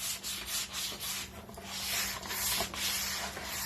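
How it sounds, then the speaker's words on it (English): Someone hand-sands a wooden stair with a fine-grit sandpaper block, giving close, rhythmic back-and-forth rasping strokes at moderate loudness over a low steady hum. "She's using a sanding block. It has very fine sandpaper that's glued into it."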